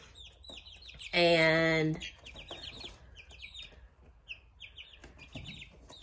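Three-week-old Golden Comet chicks in a brooder, giving many close, high chirps and cheeps, with one loud, drawn-out squawk near the start and a voice speaking briefly.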